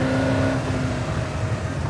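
A Ford GT40 race car with a Roush engine runs on a raceway, its deep engine note holding a steady pitch and then fading into a rough rumble, close and loud with no talk.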